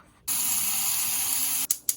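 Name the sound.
water poured into a pot of sweet potato wedges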